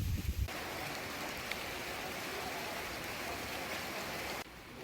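Steady rain pours at a mountain-view coffee shop and lodging in Thailand, a loud, continuous wash of drops hissing on surfaces with no break, and no voices.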